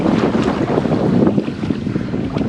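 Pedal-drive fishing kayak pushed hard through open water, a constant close rush of water and wind buffeting with splashy churning, no voices.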